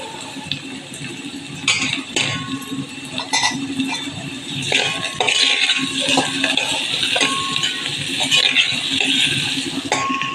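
A spoon stirs finely chopped fenugreek into sautéed onions in a pan for methi pitla, giving a continuous close scraping and light clinking over a sizzling bed, with no talking.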